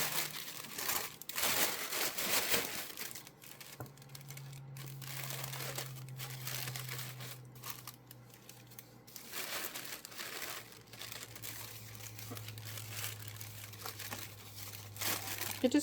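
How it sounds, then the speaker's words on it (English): Wrapping paper crinkles and rustles as a small plant is packed into a box, the crumpling sounds close and fairly loud, with a low hum underneath. "So I'm going to put the plant in here with some wrapping paper."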